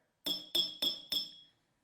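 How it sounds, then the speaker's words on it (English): Four evenly spaced, bright ringing clinks as a spoon strikes a glass holding only a little liquid, each high tone ringing briefly and decaying, close and clear with no talk. "each one for the glass to vibrate as we hit it with a spoon"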